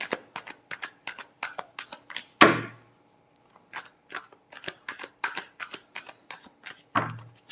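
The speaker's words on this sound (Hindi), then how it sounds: "last shuffle" Tarot cards being shuffled by hand, a long run of quick, crisp riffling snaps broken by two louder slaps as the deck is squared, close and clear with no talk.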